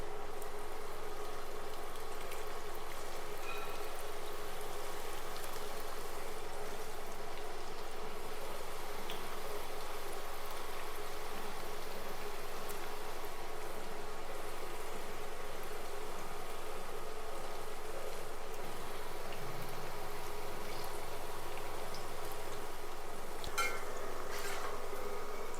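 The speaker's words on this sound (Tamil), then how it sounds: "இப்போ நம்ம ரெடி பண்ணி வச்சுருக்கிற பகோடா மிக்ஸை இந்த மாதிரி சின்ன சின்னதாக உதுத்துட்டு எண்ணெயில் சேர்த்துக்குவோம்." Onion pakoda batter fries in hot oil, a steady, even sizzle and bubbling crackle running throughout without pause.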